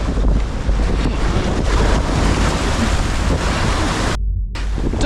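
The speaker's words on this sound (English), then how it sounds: "A wave comes up and takes Jacob into the water with it." Strong wind buffets the microphone while waves surge around a fishing boat, a loud, continuous roar of water and gusts without speech.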